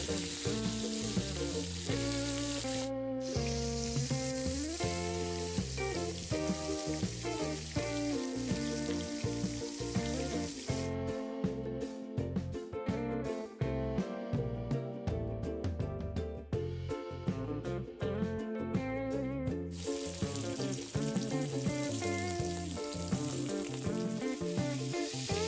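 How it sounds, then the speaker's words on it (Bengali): Pieces of rohu fish fry in hot oil in a village kitchen, a continuous crackling sizzle running steadily beneath background music. "মাছগুলোর এক পাশ ভাজা হয়ে গেলে সেগুলোকে উল্টে অপর পাশটিও ভেজে নেব"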